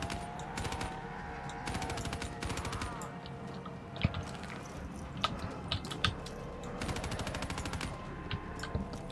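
Rapid gunfire rattles in a zombie video game, with bursts of automatic shots and scattered single cracks over a steady music and effects background, moderately loud and continuous.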